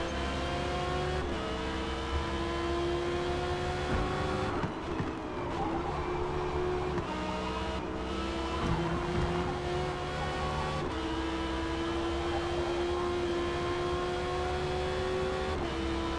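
Audi and Porsche race cars battling in a night race at Spa in Forza Motorsport, a continuous high engine drone with revving and gear-shift pitch changes, a brief hard braking dip midway, then sustained acceleration.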